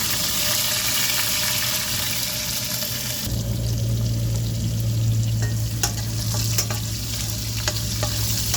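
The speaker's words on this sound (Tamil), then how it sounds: "கடுகு ஜீரகம் சேர்த்துருக்காங்க. கருவேப்பிலை வெங்காயம் சேர்த்துருக்காங்க" Mustard seeds, cumin, curry leaves and onion fry in hot oil with a loud, continuous hiss that shifts partway as the onion drops in, then sharp crackles and popping over the sizzle.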